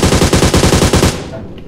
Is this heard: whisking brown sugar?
no